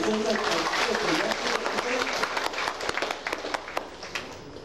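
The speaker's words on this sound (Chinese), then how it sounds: "以热烈掌声再感谢你们" Audience applause at a closing ceremony of a Tao Te Ching study class, a steady wash of many hands clapping throughout, fairly loud and continuous, thinning slightly toward the end.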